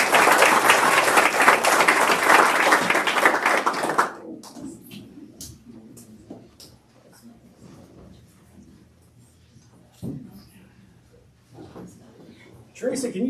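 Loud group applause at a council meeting lasts about four seconds, then stops abruptly, leaving a quiet room with scattered talk and small noises.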